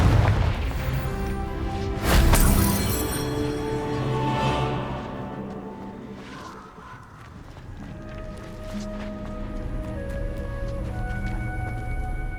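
A Confringo spell blast hitting rocks in the video game Hogwarts Legacy, a loud burst and rumbling boom with debris scattering, then settling into fainter game ambience and music.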